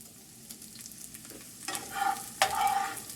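Garlic and onion hit hot oil in a pan for pork adobo, bursting into a crackling sizzle with stirring scrapes, the frying growing louder in two surges near the end.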